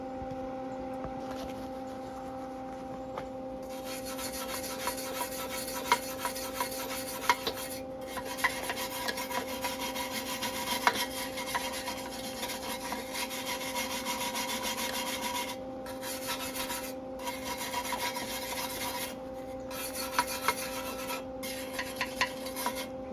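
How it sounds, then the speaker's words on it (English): A small wire brush scrubs a welded exhaust on a Husqvarna LGTH 24V54 lawn tractor, a steady rasping scrape continuing for over twenty seconds with brief pauses and a faint constant hum behind it. "now I'm going to clean it up with a little wire brush"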